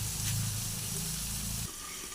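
Pigeon meat fries in a pan with a dense, continuous hissing sizzle, close and fairly loud, easing to a thinner hiss near the end.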